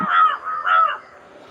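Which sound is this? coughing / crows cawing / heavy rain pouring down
crows cawing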